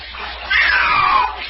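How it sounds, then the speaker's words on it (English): A cat being bathed lets out a drawn, gurgling meow, a single loud wavering wail close by that rises and falls. "There's the meow gurgle."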